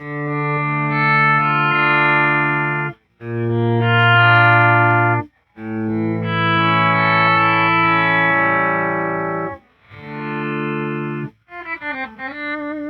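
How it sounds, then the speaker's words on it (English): Electric guitar chords through a reverse delay pedal swell in backwards, heavily processed with a wet, shimmering effect, played in several long phrases, ending with a few wavering single notes. "it does sound like a backwards guitar"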